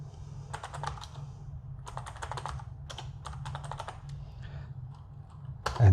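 Steady computer keyboard typing in bursts of rapid key clicks with short pauses, close and clear over a low room hum, during a 3DEqualizer tracking session; no one speaks.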